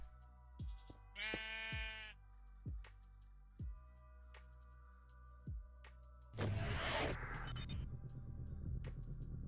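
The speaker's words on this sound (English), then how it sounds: "Why are you giving me a sheep?" Sheep in Minecraft let out a few wavering bleats amid sharp clicks and taps of block-building gameplay, ending in a louder burst of rushing noise.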